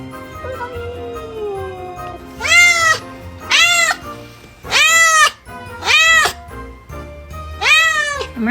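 A cat meows loudly and close by, five drawn-out, rising-and-falling calls in a row with short pauses between them, against a quiet room background.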